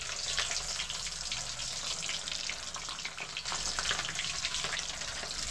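Salted, food-coloured boiled potatoes fry in hot oil in a pan for a chicken biryani, giving a steady, close, dense sizzle and crackle that carries on evenly with no voices.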